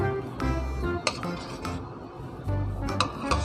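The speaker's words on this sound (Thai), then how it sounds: "เฮาก็สิมาตักฟองตรงนี้ออก ตักให้หมดเลยได้จังเลย" A spoon scrapes and clinks against a pot while skimming foam off fingerroot juice. The scraping taps and knocks are close and irregular, with no talking.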